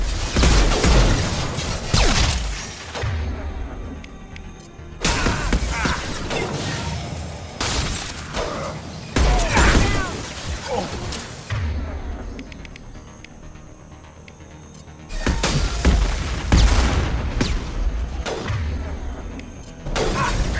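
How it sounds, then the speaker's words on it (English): Impact shot gunfire in Mass Effect 2 on Insanity difficulty, loud sharp bursts recurring in bouts among busy combat noise, with no talking. "Firing an impact shot."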